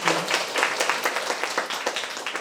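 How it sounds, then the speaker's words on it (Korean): A school briefing audience claps to welcome an architect, a brief burst of rhythmic, fairly close handclaps with distinct individual strikes in a steady pulse. "큰 박수로 환영해 주십시오."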